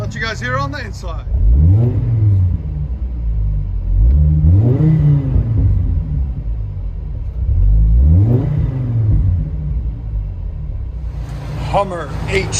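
A 2006 Hummer H3 Alpha five-cylinder with Black Widow dual exhaust and 4-inch tips revs three times in long rising-and-falling sweeps, a deep loud rumble throughout, with brief voices at the start and end.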